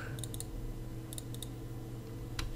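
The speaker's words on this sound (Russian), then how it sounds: "Двойной клик." Computer mouse clicks while working in Adobe Illustrator, several short crisp clicks in quick pairs close to the microphone over a quiet room hum, no speech.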